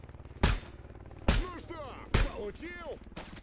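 Three loud, sharp gunshots in S.T.A.L.K.E.R. GAMMA crack out at steady intervals, each followed by a short ringing tail, with game voices and chirping effects in between.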